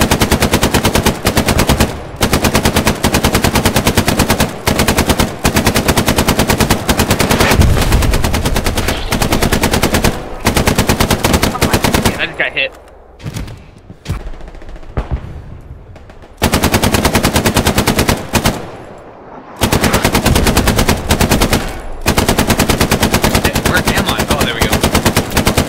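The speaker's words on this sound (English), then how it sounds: "Just lay down that suppressing fire." Sustained machine gun bursts laying down suppressing fire in the WWII shooter game Hell Let Loose, loud and close, in long rapid strings broken by brief pauses and a quieter stretch midway.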